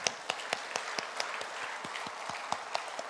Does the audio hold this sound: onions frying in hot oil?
no